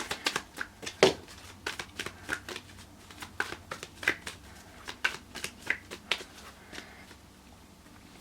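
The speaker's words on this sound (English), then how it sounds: "I'll pull a couple more cards." A deck of tarot cards is shuffled and pulled, with a quick run of crisp riffling snaps and slaps repeating rhythmically, close and alone with no talk.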